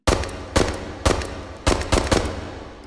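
A small six-shot .380 auto pistol in the VR game H3VR fires six sharp, poppy shots in quick succession, close and loud with no talk.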